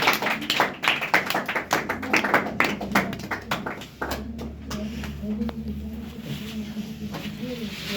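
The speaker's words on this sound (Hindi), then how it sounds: "चलिए इनके लिए एक शानदार सा ताली का अभिनंदन दिया जाए" Audience clapping at a school prize distribution for a weekly test, a burst of hand claps with uneven rhythm that fades after a few seconds into quieter room noise and murmuring.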